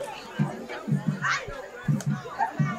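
Spectators at a high school football game between Luverne and Barbour County in Clayton, Alabama, a sparse crowd murmuring and chattering in the background while commentators talk over it in bursts.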